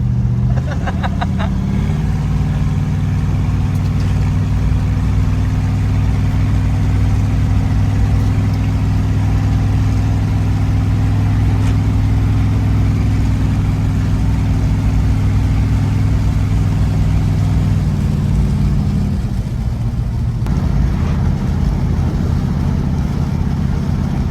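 A Mercury car engine drones steadily while driving on bumpy roads, a loud, continuous low hum and rumble close by that barely changes for over twenty seconds before dipping briefly near the end.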